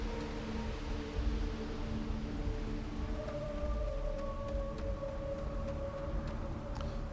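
Steady rain in Starfield, a video game, hissing as a continuous wash with low rumbling and a few sharp high ticks, alongside a held tone that rises partway through; no one speaks.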